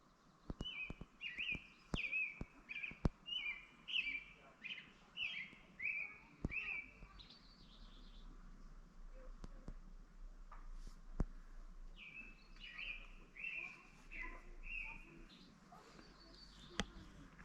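Birds sing outdoors in South Dakota, with repeated clear chirping phrases near and far, interrupted by sharp clicks and light background noise.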